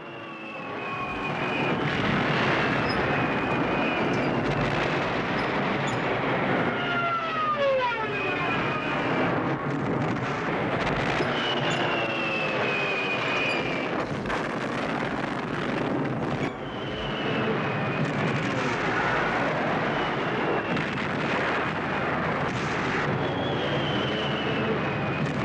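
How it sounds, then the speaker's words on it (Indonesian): German Stuka dive bombers fly over in a battle scene, their engines droning and howling loudly and continuously, with rising and falling whines and rumbling explosive bursts layered beneath, no speech. "gerombolan skuadron-skuadron pesawat pembom yang segera saja"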